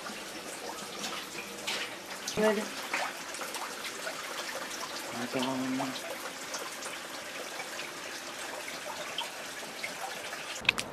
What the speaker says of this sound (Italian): È la cantina da cui gronda l'acqua